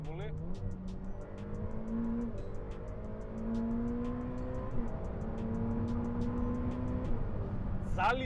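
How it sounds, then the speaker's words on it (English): A Ferrari F8 Tributo engine pulls hard under acceleration in manual mode, its loud, steady drone climbing in pitch and briefly dipping at two quick gear shifts before rising again. "It switches gear right away."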